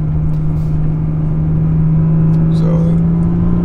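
Car accelerating in manual Sport mode after a Stage 3 XHP transmission flash, a loud steady engine drone with a constant low tone and a slight rise in pitch near the end, heard close from inside the cabin.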